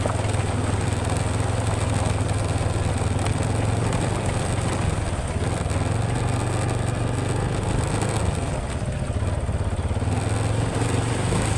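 A motorcycle engine drones steadily while riding through a flooded road that looks like a river, a continuous mid-pitched running note with broadband wash from the water, close and loud throughout.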